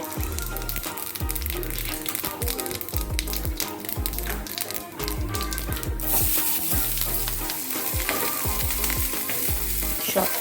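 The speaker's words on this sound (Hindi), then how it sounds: "इसमें हम थोड़ी सी कसूरी मेथी डालेंगे और इसे मिक्स करके अनियन को हल्का सा सॉटे कर लेंगे।" Chopped onions and green chili sautéing in oil with mustard seeds and dried fenugreek leaves, a loud constant sizzle with repeated spatula stirring and scraping against the pan, close up.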